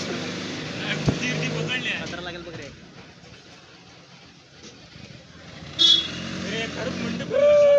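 Engine of an arriving tempo goods vehicle at a village spot in Konkan during a women's cricket outing, a steady mid-distance motor rumble under people talking, with a short horn toot near the end.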